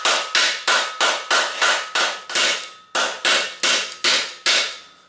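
A small sledgehammer striking a stuck bicycle seatpost, twelve sharp, loud metallic blows at a steady rhythm with a brief pause midway, each ringing out before the next.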